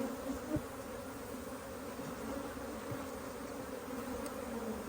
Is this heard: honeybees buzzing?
yes